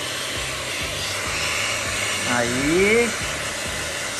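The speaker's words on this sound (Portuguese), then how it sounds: "Momento do secador de cabelo. Deixa eu colocar no médio pra ficar tranquilo." A hair dryer set to medium blows in a steady, loud continuous whoosh while a pet is being dried, and a voice speaks briefly over it.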